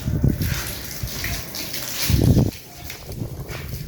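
Water gushes from a slightly dirty pipe while a house is washed at home, a steady rushing flow with a louder surge midway and low thumps underneath.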